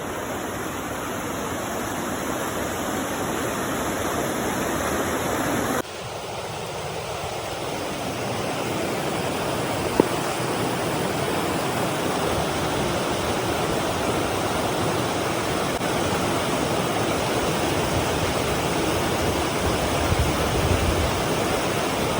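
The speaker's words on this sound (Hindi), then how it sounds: "चेक मारो क्या साउंड है भाई पानी का।" Water flowing in a forest stream at a camping spot, a loud, steady broadband rush that continues unbroken throughout, close by, with no talking.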